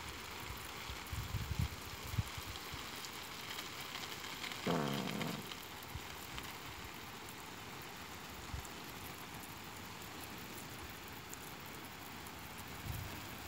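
Garden watering spray hitting pumpkin leaves and soil in a vegetable patch, a steady rain-like hiss that runs throughout, with a brief whooshing sweep around the middle and no talking.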